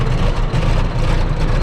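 A 200,000-pound Caterpillar dozer's engine idles with a steady, loud, low rumble that runs without a break, close by and with no voices.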